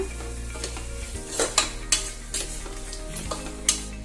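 Green chillies and onion stirred and fried in a pan for veg pulao, with a steady sizzle broken by several sharp scrapes and clinks of a spoon against the pan.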